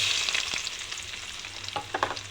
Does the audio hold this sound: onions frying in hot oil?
yes